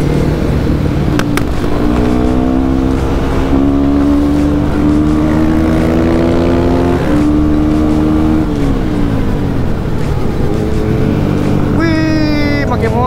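A big motorcycle engine on a Sunday morning group ride, droning loud and close throughout with rising and falling revs; a second engine pitch and faint voices surface near the end.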